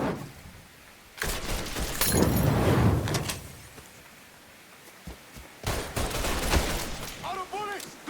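Video game gunfire and a Molotov in Mafia 3: bursts of shots and a crashing, shattering throw break out in two loud clusters amid quieter stretches, with a brief chirping sound near the end.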